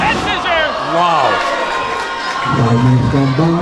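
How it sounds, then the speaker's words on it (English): A wrestling arena crowd at an EWF match roars and cheers loudly with children shouting, a dense, sustained wall of noise with a commentator's voice running over it. "And our crowd here roars in appreciation of the EWF arena."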